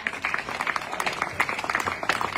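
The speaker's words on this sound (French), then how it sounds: "On peut applaudir très fort" Audience applauding a named competitor's result at a live event, a dense, steady patter of clapping with no break across the whole stretch.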